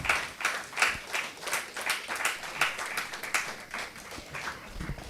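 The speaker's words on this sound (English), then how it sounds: "Give them a big round of applause." Applause from a crowd at an alumni meet honoring graduates, a steady patter of many hands clapping at moderate volume, swelling and easing slightly in waves.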